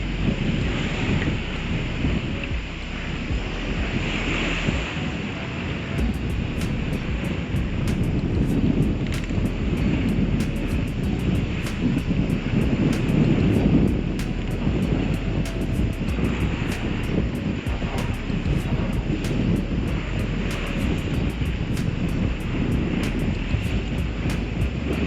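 Heavy ocean swells and strong wind roar steadily around a reefed sailboat under motor sail in about 30 knots on a passage to St Lucia, a constant loud rushing wash with no talk.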